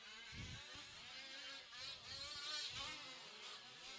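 Race car passing on the track in a Good Ol Boys Club Series qualifying session, a faint, distant engine buzz that rises and falls as it goes by, heard alone.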